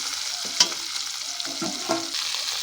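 Ginger garlic paste fries and sizzles in a pan, a bright continuous hiss with a few stirring scrapes and taps over a short stretch, no voices.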